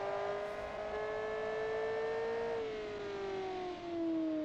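A transverse V8 rear-wheel-drive race car engine in BeamNG revs steadily with a smooth rising whine, then its pitch drops as the gear changes and it climbs again, loud and close.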